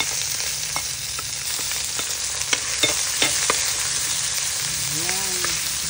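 Garlic and onion sauté in a pan with a steady, bright sizzle, broken by sharp clinks and scrapes of a utensil stirring, plus a brief tonal squeak near the end.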